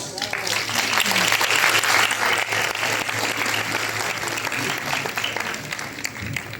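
A Lima international book fair audience breaks into loud, sustained applause to welcome speakers, a dense wash of clapping that holds steady for several seconds before tapering slightly.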